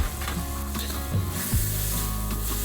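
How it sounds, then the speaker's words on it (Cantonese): Soy sauce sizzles loudly against the hot edge of a wok holding ginger, scallion and oysters, with a steady frying hiss and a few stirring scrapes. "我哋可以加少少生抽啦，冇多少少咁樣喺個鑊邊嗰度"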